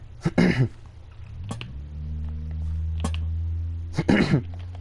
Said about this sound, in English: Sorry about clearing my throat over and over.